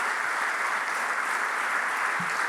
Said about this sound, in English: Huge round of applause in advance of today's program